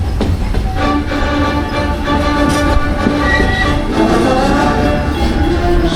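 Walt Disney World Railroad steam train rolling steadily with a loud, sustained multi-tone horn blast over continuous rumbling wheel and carriage noise, close and constant throughout.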